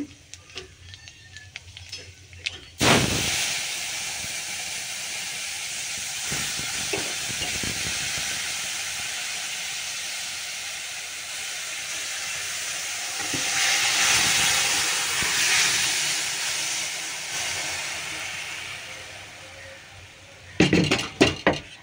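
Greens hit hot oil with dried chili and nigella seeds in a kadai, bursting into a sudden loud hissing sizzle that holds steadily for many seconds, with a few clatters of stirring before and at the end.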